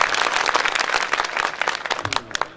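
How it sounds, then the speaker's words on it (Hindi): A crowd at a Hindi poetry gathering claps loudly in a scattered, uneven patter that thins out toward the end. "इस देवी के लिए एक बार जोरदार तालियां आप लोग बजाएं।"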